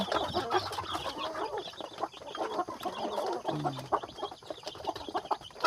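Free-range native village chickens clucking at close range, a busy overlapping chatter of soft clucks and calls over an outdoor farmyard backdrop, fairly quiet, with no talk.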